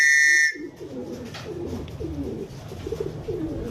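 Racing pigeons coo in low, soft, repeated murmurs close by, with a loud whistle-like tone cutting off in the first half second.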